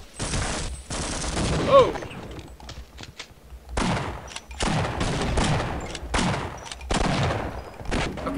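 Gunfire rattles in Half-Life: Opposing Force, with repeated loud bursts and volleys spread across the scene, separated by short lulls. A player gives a brief exclamation early on.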